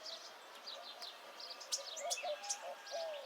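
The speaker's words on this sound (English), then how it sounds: "everywhere, the calls of the warblers" Thin, high chip notes from warblers scattered against a quiet background, with a few sharper calls standing out.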